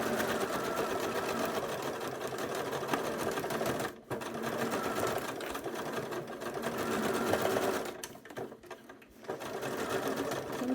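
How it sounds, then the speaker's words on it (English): Sewing machine stitching a pieced quilt block with heavy seams, a steady close whirring hum that runs on with brief pauses around four and eight to nine seconds, no talking. "I'm going to sew with my block side up because the D piece is just a tad longer."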